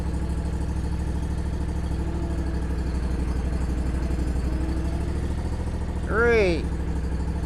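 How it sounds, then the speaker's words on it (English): Bad Boy ZT Elite zero turn mower engine idling steadily and close, a constant low drone throughout with a brief higher-pitched whine near the end. "what I like doing is idling my lawnmower up for the last 3"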